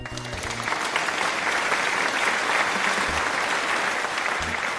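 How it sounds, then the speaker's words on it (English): A crowd applauds steadily and loudly throughout, a dense wash of clapping with a faint voice or two underneath. "Big applause for Gary the Motham, everybody!"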